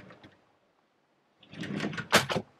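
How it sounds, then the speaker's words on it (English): Sliding drawers running on ball bearings in the cabin of a 2003 Meridian 341 boat, heard as a brief soft rolling slide followed by a louder clack as the drawer closes, nearby with no talk. "You have sliding drawers here,"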